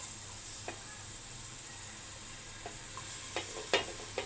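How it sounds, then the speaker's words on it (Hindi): Finely chopped onions fry in ghee with a soft, constant sizzle and hiss, a few spoon taps and scrapes coming near the end, close and moderate in level. "और इसको हमने घी में अच्छी तरह से भुनाई कर लेंगे इसकी।"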